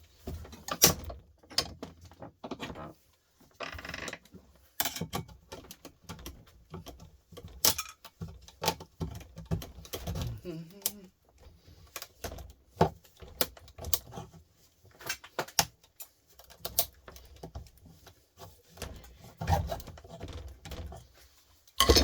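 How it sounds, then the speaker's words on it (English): A steel chisel prises stuck copper windings out of an electric motor clamped in a vise. Close, irregular scrapes, clicks and sharp metallic knocks come in bursts with short pauses, and nobody speaks. "we get our chisel in under it and prise it up"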